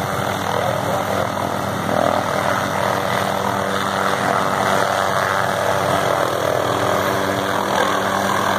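A helicopter at a small forest fire call drones loudly and continuously with a steady rotor and engine roar, close by and unbroken, with no talk over it.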